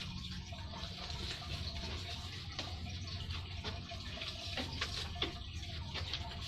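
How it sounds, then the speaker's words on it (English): Water sloshing and trickling as hearts are lowered into blessed water during a Lupercalia grove ritual, a steady close splashing wash with a few brief louder drips. "We will submerge the hearts in blessed water during the ritual"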